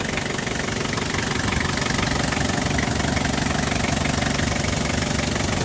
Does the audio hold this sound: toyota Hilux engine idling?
yes